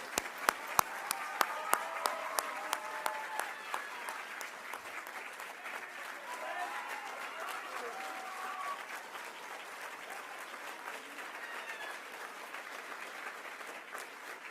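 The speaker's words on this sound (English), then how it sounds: "Let's give another big round of applause." Audience applause at a Veterans Day celebration at a university in Panama City, sustained dense clapping from a crowd that starts with a few loud nearby claps and then settles into a steady ovation lasting the whole stretch.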